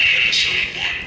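An Ultrasabers lightsaber running its Ancient Saber sound font gives a continuous buzzing electric hum. The hum swells briefly near the start and again near the end, heard alone at close range.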